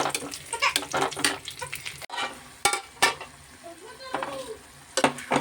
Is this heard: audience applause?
no